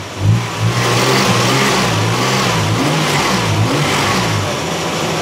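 A Nissan Xterra 3.3 engine, freshly fitted with new main and rod bearings, runs steadily up close, a smooth loud drone with a few rises and falls in revs and no other sounds.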